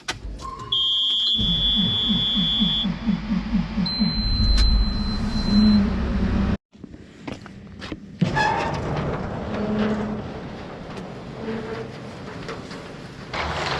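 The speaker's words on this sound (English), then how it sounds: "Right, we'll get the JCB warmed up." A JCB loader on a farm starts up with high electronic warning beeps, then settles into a steady, close engine idle that runs on as it warms up.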